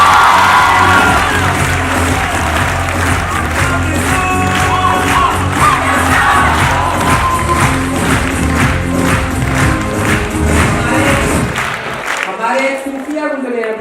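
A conference audience bursts into loud, sustained applause and cheering with whoops and shouts, the clapping dense and steady before cutting off abruptly near the end.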